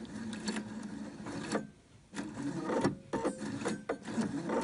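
A sewing machine stitches bias binding out to a fabric corner, a close, steady mechanical whir in two bursts separated by a brief pause.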